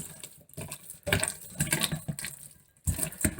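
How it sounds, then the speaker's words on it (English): Pork intestine being rinsed under a running kitchen tap, water splashing and gushing in uneven bursts with brief pauses as the slippery cleaned intestine is handled, fairly quiet and close, no voices. "once I rinse it"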